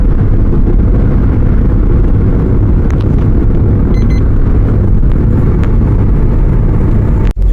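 Car driving on the Madanapalle–Tirupati highway at 120 km/h, heard from inside as a constant loud road and wind roar with a brief click near the end.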